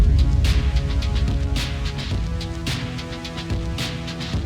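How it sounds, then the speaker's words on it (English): A main synthesizer part from a musical rescore of the ARC Raiders launch trailer plays alone, with rhythmic chords and sustained tones layered over a dense low end and regular bright pulses. "I have the main synth here."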